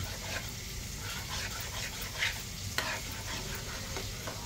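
Semolina halwa sizzles and bubbles steadily in ghee, a continuous close frying hiss with stirring, no talk.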